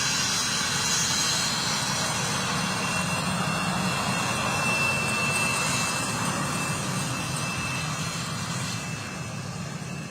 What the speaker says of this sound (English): Do have an Embraer to bring you though